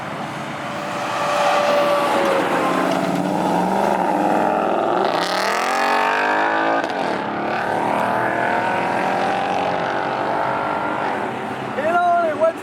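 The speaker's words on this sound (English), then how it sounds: "Go burnout." Car doing a burnout at a cruise-in car show, its engine revving hard and roaring with rising and falling pitch, loud and continuous under crowd chatter.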